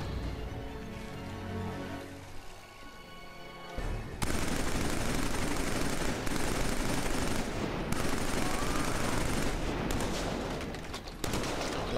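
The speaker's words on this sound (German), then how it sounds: "Dieses MG, also das liebe ich ja jetzt schon." Rapid machine gun bursts from the shooter game Killzone 3, with dense rattling fire that breaks in after a quieter opening stretch and keeps going in clusters, mixed with game sounds.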